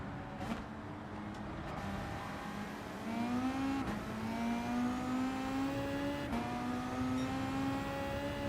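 Race car engine in Gran Turismo 7, revving steadily with a rising pitch that climbs through gear changes during a race start, loud and close with no talk over it.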